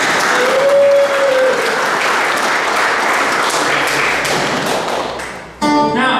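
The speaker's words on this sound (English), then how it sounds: "Give yourselves a round of applause, please." Audience applause at a Berks History Center event, a loud sustained crowd clapping with a brief tonal whistle early on, fading out near the end before a sudden tonal burst cuts in.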